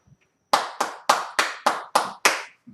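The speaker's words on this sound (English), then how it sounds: "let's clap it up for the Hidden Truth Revealed" Seven sharp, evenly spaced claps ring out close and loud in a slow rhythm, each with a short decaying tail, with quiet gaps before and after.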